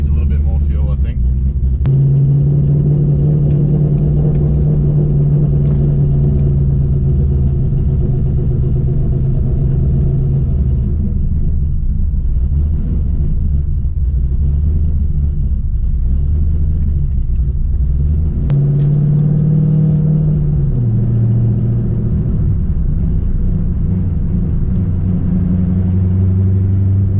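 A cammed Ford BA GT engine idles cold, rough and close, with a deep lumpy rumble that bucks and hunts. The revs briefly rise and fall near the start and again later.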